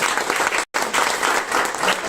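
Loud, dense applause from an audience fills a success meet for a Telugu web series, steady throughout with only a brief cut in the middle.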